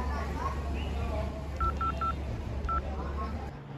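A phone number being keyed on a mobile, a quick run of three electronic touch-tone beeps followed by one more, heard over steady background hum and faint room noise.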